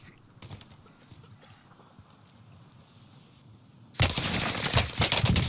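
Gunshots in Warzone on Rebirth Island: light clicks and thuds early on, then a loud sudden burst of rapid automatic fire that runs to the end, close and harsh.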